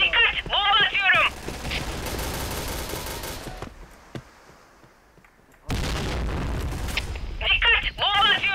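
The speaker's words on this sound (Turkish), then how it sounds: "Dikkat! Bomba atıyorum!" Grenade blasts and gunfire ring out in a Point Blank shooter match. Two loud, sudden booms are each followed by a sustained roar, with a quieter lull between them. Voices speak at the start and near the end.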